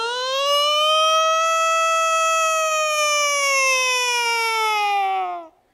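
A performer's voice imitates a siren in one long, loud, sustained wail held for about five seconds, slowly rising then sliding down at the end.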